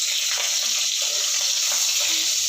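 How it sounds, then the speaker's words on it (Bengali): Dried red chillies sizzle in hot oil with five-spice for a Bengali lau ghonto, a bright continuous frying hiss with faint stirring clicks, close by and without talk. "শুকনো লঙ্কাটা একটু ভেজে নেবো।"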